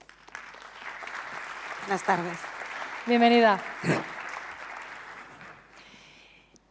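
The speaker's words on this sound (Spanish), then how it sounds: "Un aplauso para ella" Audience applause for a newly introduced moderator at a round-table discussion, a steady wash of clapping beneath a woman's spoken greeting and welcome, fading out gradually at the end.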